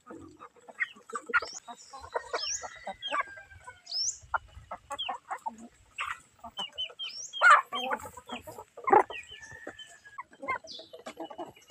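Chickens cluck and chatter intermittently nearby, a mix of short clucks and squawks at moderate volume.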